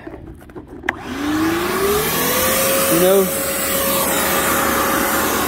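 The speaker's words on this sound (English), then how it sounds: "I came up here, hooked a vacuum cleaner up." Vacuum cleaner sucking debris out of mouse-infested equipment: the motor spins up with a rising whine, then holds a loud, steady rush with a brief pitch change as debris goes through, and a voice speaks briefly at the start.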